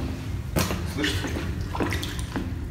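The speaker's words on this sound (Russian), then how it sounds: "Там рыба плещется прям очень сильно" Fish splashing in water inside a tunnel, several sharp wet slaps and splashes over a constant loud rushing background of flowing water.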